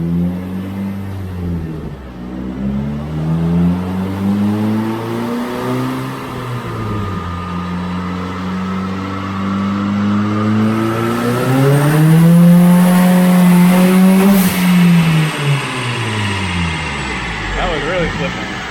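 A turbocharged Toyota Corolla runs on a dyno, its engine climbing and falling through loud, sustained revs with sweeping pitch changes over about nineteen seconds, while people talk near the car.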